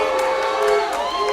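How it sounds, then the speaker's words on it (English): A crowd at a live CCW wrestling show cheers after a hot tag, a loud sustained roar of voices with whoops rising above it, filling the arena for a short burst. "And hear the crowd going crazy."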